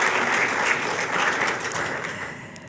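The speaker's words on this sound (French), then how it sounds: "Est-ce qu'on peut applaudir, s'il vous plaît, pour ce moment, histoire de redescendre un peu de l'émotion?" An audience applauds after an emotional moment at a formal gathering, with sustained crowd clapping that gradually fades, and no talking over it.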